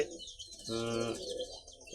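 A single low coo from a Rajshahi Giribaz pigeon rises in the middle, soft and throaty, with quiet background hiss before and after.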